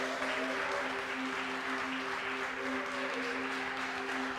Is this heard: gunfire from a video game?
no